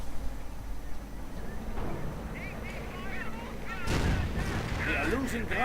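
Gunfire and artillery in a WWII strategy video game: a steady battle rumble that swells into louder bursts of shots and explosions midway, with faint voices in the mix.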